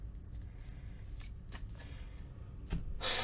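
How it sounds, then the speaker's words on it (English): A deck of cards for the Marvel Champions card game being shuffled close up, a run of crisp riffling bursts and soft slides, ending in a louder final riffle, with no talk. "I have the villain deck shuffled, but I will go ahead and shuffle it again."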